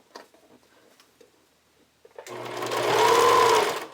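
A sewing machine stitches cut-and-sew foam padding onto a bra, starting after two seconds of quiet and running as a steady, close whirring burst for nearly two seconds.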